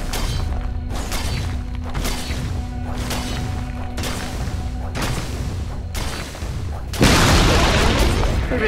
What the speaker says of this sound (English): Radiant's middle tower has fallen.